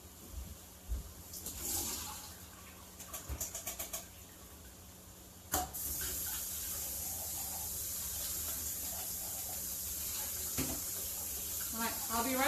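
Running water from a kitchen tap rinsing canned beans, a steady hissing rush that starts with a sudden burst and continues, preceded by clattering handling sounds, with voices in the background.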